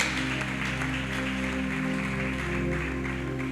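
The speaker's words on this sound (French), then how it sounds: "Acclame bien le Seigneur." A church congregation applauds steadily to acclaim the Lord as an elder is welcomed, dense continuous clapping at a loud, even level over a sustained low organ or keyboard chord, with no pause throughout.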